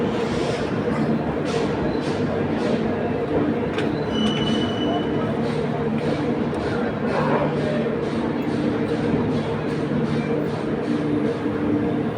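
A train rumbles steadily with wheels squealing and metallic clatter, a loud continuous roar heard from inside a carriage, at a station near Bangalore junction.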